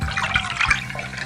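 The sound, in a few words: washing a clay pot with water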